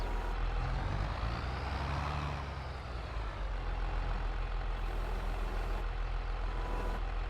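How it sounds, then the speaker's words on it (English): A tractor engine in Farming Simulator 22 runs steadily and loudly throughout, a constant low rumble with a brief dip in pitch partway before settling back to an even drone, with no talk over it. "And hop back in the tractor here."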